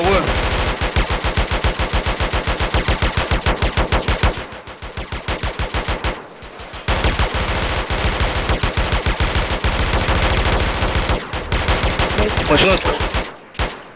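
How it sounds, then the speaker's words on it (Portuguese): Automatic gunfire from GTA San Andreas rattles in long, loud, rapid bursts with brief pauses between volleys. "Continua soterrando ele de bala aí, a gente vai atirar pelos cantos"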